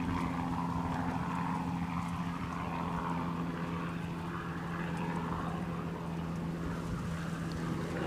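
Helicopter at Edinburgh Airport running with a steady low rotor and engine drone, a continuous even hum that holds loud and unbroken throughout, with wind noise mixed in.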